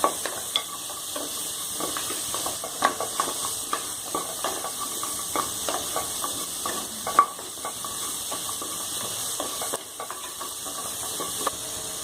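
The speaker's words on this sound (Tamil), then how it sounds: "இந்த லெக் பீஸ் போட்டுருங்க. போட்டு நல்லா வதக்கி விடுங்க." Mutton leg pieces sizzling and frying in a hot pan, with steady hiss and repeated scraping of a spatula as pieces are stirred, close up and continuous.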